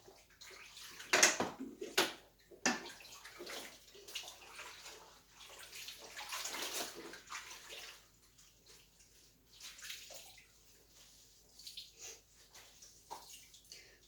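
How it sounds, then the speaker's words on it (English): Running water splashes and rushes in bursts while dishes are rinsed off-grid, a pan holding scalding water, with a few sharp clatters early on, then settles into quieter intermittent trickling and dripping. "Everything gets rinsed off beautifully"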